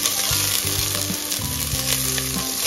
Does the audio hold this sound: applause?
no